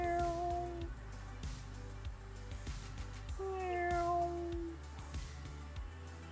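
A cat meows in the GTA V video game, with several drawn-out, wavering calls spread across the stretch, heard fairly close over a steady low rumble of game sound.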